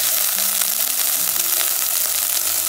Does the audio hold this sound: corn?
yes